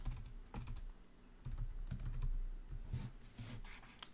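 Clicking keystrokes on a computer keyboard in quiet, irregular bursts of typing, close and soft with no talk.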